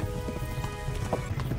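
Horse hooves clip-clopping at a quick steady pace in the video game Kingdom Come Deliverance, rhythmic thuds running throughout over background game ambience.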